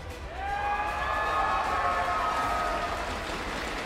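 Crowd applauding at a Paladins esports championship event, a dense sustained wash of clapping that swells and holds, with a sustained whistle-like tone rising over it early on.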